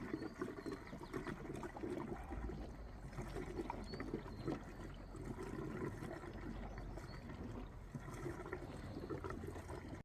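Fuel pours steadily into the tank of a project Audi TT 8N with a 1.8T 225 engine. The trickle is close and continuous for about ten seconds, with no talk over it.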